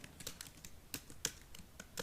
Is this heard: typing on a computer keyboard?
yes